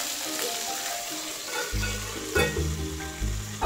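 Dal frying on low heat, a constant soft sizzle with occasional stirring scrapes, close and moderate, while a low humming background sound comes in partway through.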